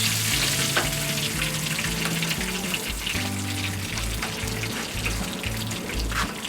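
Bullfrog legs frying in a skillet in a Florida swamp camp, a steady, loud sizzle and crackle of hot oil running throughout with no talking.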